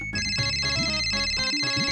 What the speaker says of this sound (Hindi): अरे फोन बज रहा है, कोई फोन उठाओ।